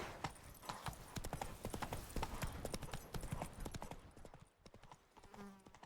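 Roach the horse galloping in The Witcher 3: Wild Hunt, a fast, close, steady clip-clop of hooves that thins out near the end, with a voice briefly audible.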